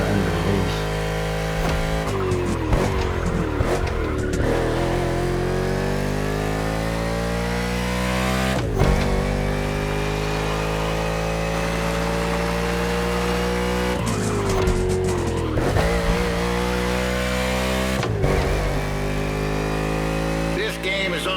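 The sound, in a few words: NASCAR race car engine in video game The Crew Motorfest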